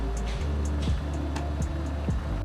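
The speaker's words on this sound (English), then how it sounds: "the noise in the car is quite loud" Loud, steady road and engine noise fills the cabin of a turbocharged all-wheel-drive Volkswagen Golf Mk1 while driving, a constant low roar with faint ticking sounds over it.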